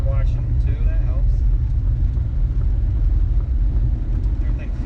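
A vintage 1966 car on the move, a low steady engine and road rumble close inside the cabin, with someone talking over it.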